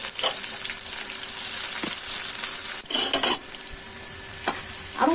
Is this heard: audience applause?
no